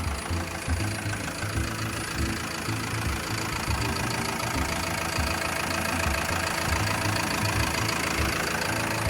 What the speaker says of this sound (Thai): เสียงเครื่องเนี่ยก็ทำงานได้นิ่มแน่นและก็เงีย บเดียวมากนะครับ